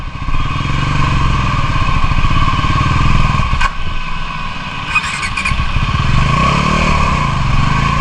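A motorcycle rides steadily on a monsoon trip, its engine droning loud and close for the whole stretch, with brief squeals and clatter partway through.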